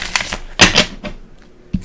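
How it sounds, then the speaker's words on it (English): Tarot cards being shuffled by hand, a few crisp, papery snaps and riffles in quick bursts, then a short pause and one last sharp slap of the deck. "sometimes cards are really easy to shuffle, and so I just get the urge to shuffle them"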